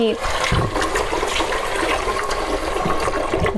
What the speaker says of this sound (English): keep filling it up, swirling it with my hand, and then I'm going to kind of tilt and pour it as I go.